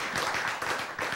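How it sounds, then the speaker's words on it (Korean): A lecture audience clapping in short rhythmic bursts, steady and moderately loud, lasting only about a second. "박수 치세요, 박수."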